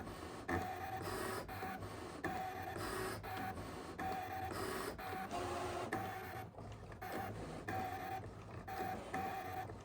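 A Brother ScanNCut cutting machine cuts slots into material for a purse, giving a steady mechanical whir with rhythmic stepping pulses and repeated carriage movements throughout, close and continuous with no talking.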